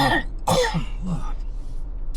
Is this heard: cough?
yes